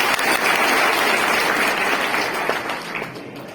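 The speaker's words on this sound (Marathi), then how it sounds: "सर्वांनी टाळ्या वाजून आपल्या ताईचं स्वागत करा" Crowd applause at a Congress party workers' rally, a dense burst of clapping from many people that holds steady and then tapers slightly toward the end.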